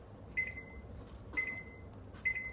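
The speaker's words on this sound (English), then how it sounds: "We got to preheat the oven." Kitchen oven beeping as it is set to preheat, three short electronic beep pairs spaced about a second apart over a quiet room hum.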